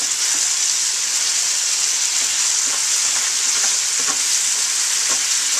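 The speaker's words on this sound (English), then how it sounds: "you want to keep scraping the bottom. Get all the good caramelized bits up off the bottom of the pan" Corn maque choux sizzling steadily in a pan over medium-high heat, with intermittent soft scraping strokes as caramelized bits are worked off the bottom; continuous close frying hiss throughout, no talking.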